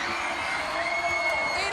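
A large swimming arena crowd roars and cheers steadily during Katie Ledecky's world record swim, with an announcer talking over the noise.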